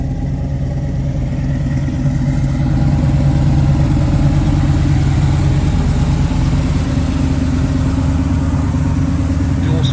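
1981 Chevrolet Camaro engine idling on a cold day with a newly installed starter: a loud, close, steady low rumble with a slight lift in level partway through, and no talk over it.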